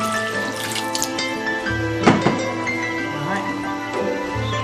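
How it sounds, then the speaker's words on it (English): Water is poured into tamarind sauce in a cooking pot, a short splashing trickle midway over steady background hum and faint cooking noise. "Add a bit of water just to loosen the sauce up a bit."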